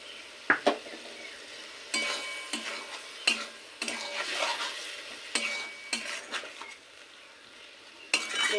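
Okra being stirred and sautéed in a pan for a spicy Bengali dish, with repeated scraping stirs and a light sizzle, close and fairly quiet, with short pauses between strokes.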